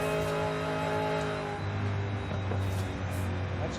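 GMC Syclone truck with a 6.2 engine in the racing game Forza Horizon 5, a steady loud engine drone that shifts pitch midway as it revs, with faint tire noise and no talk.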